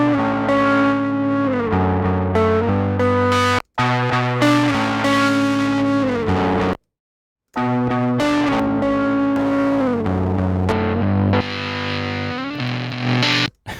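Electric guitar through Ableton Live 10's Pedal distortion effect alone, heavily distorted, playing sustained chords and riffs, loud and saturated, with two brief dropouts to silence partway through.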